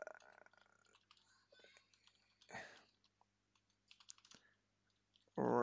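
Keys tapped on a computer keyboard while a password is entered, quiet scattered clicks in short bursts with pauses, close and faint.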